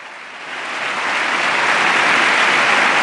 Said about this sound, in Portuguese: E novamente todos de pé aplaudem o Santo Padre.